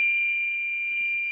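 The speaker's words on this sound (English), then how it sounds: "as the door opens, it sounds the alarm" Armed home security alarm system going off after a door opens: a continuous, loud, steady high-pitched electronic tone holding without a break.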